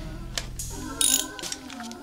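Ratchet clicking in short bursts while tightening on a Honda Civic engine during a valve adjustment with camshaft bridge work, loud and close with brief pauses between strokes.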